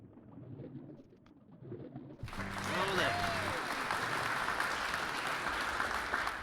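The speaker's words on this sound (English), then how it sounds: "And I don't know why I enabled the applause." A stream applause sound effect enters suddenly partway through as a steady wash of clapping and cheering, running under a man's ongoing speech and continuing to the end.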